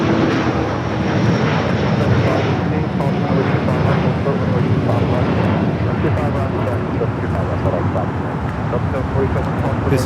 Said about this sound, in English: This is Latam 603 going to Santiago, 10-year-old Boeing 787-8 Dreamliner